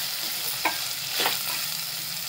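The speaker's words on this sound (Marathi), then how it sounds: "चांगले परतून घेते।" Powdered spices, coriander powder and yellow masala sizzle and fry in a pan for veg pulao, with a steady hiss and a couple of scraping stirs of a spoon.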